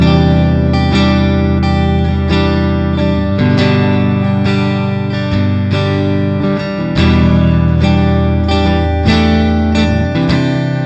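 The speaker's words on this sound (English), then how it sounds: "Let's do a couple like open cowboy chords and see what happens." Fender Telecaster on the neck pickup strumming open cowboy chords through distortion, a steady run of loud, sustained strums with effects and some reverb, no talking.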